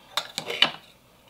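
A utensil stirs and fluffs cooked quinoa in meal-prep containers, giving three quick, light clinks and scrapes close by.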